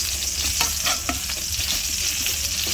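Garlic fries in a pan with a bright, steady sizzle, broken by a few soft scraping strokes as a utensil stirs it, close and moderately loud with no talking.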